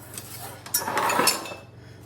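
Dishes clinking in a kitchen sink, a short cluster of ceramic and metal clatter that rises in the middle and fades, heard close and on its own.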